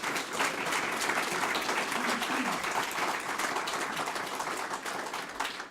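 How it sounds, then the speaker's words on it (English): A crowd applauds at the opening ceremony of a veterans house, the clapping thick and sustained at a fairly loud, even level throughout, with voices faintly mixed in. "So how about a round of applause for everybody who's been associated with this project."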